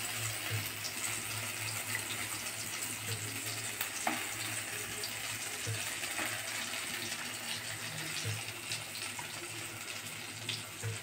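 Ground green peas with nigella seeds frying in sunflower oil in a wok, a steady, even sizzle heard close and continuous, with occasional faint stirring clinks and no talking.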